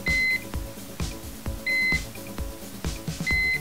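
A gas detector alarm gives short high beeps three times at a steady interval, over a background of rhythmic mechanical clicking from its pump.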